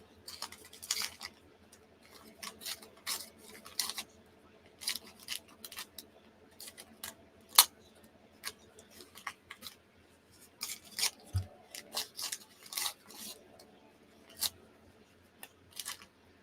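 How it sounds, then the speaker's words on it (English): Scissors cutting paper into shreds, a faint, irregular series of short crisp snips and rustles, close by and with no talking. "I am making a paper shredding mess."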